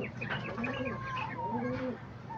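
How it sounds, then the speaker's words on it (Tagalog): Pigeons coo in soft, overlapping rounds close by, with a low throaty murmur running under repeated rising and falling calls throughout. "So yan pala mga kalapatids."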